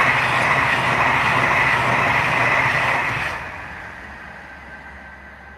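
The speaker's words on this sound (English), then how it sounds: "I've got a Pendolino coming." A Pendolino train rushes past nearby in a loud, steady roar of wheels and rail noise that fades quickly as it moves away.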